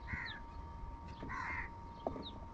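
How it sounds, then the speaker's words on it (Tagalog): Several crows caw in short harsh bursts, a couple of calls standing out over a steady outdoor background with a faint constant hum, in Shoaibah. "Ayan oh, ang dami. Nagsisibabaan na yung mga uwak."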